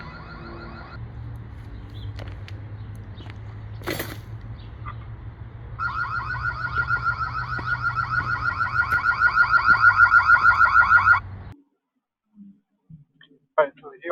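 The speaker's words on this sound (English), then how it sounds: "Let's activate the audible alarm." A smart bird feeder camera sounds its audible alarm, a loud electronic siren of repeating, rising warbling tones that swell for several seconds before cutting off abruptly.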